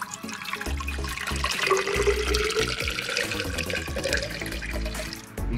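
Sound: water filling a container

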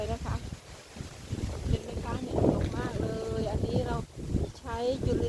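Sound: strong wind blowing in backyard garden

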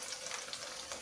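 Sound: stirring blended spice paste in a pan

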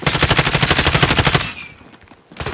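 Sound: gunfire in a video game

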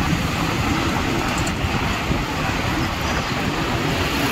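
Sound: morning ambience at Jafrabad metro station, Delhi

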